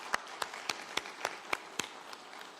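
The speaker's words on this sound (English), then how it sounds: "Please clap for South Africa and their representative." An audience at a humanitarian summit in Türkiye applauds South Africa's representative with steady, evenly spaced claps, faint and roomy, about ten beats in a row.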